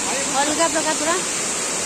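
A waterfall pours with flowing water, a steady broadband rushing roar that holds even throughout, while someone talks over it near the microphone.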